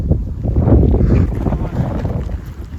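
Strong wind buffets the microphone at a dam viewpoint at Manchanabele Dam, a loud continuous low roar and rumble that swells and dips without a break.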